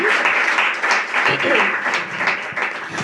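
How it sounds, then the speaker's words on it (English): An audience gives a round of applause at a talk on the artist's role in society, steady close clapping throughout with some voices mixed in. "one more little round of applause while I put my book down"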